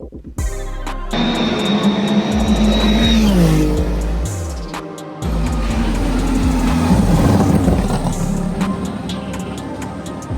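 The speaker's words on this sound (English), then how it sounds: "I got in the F2002, which is Ferrari's F1 car from 2002 that had the famous 1-2 finish." A 2002 Ferrari F2002 Formula 1 car engine, loud and close throughout, with a high rising pitch that winds down around the middle, a short break, then a sustained roar again.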